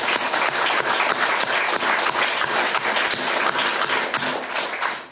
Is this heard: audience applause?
yes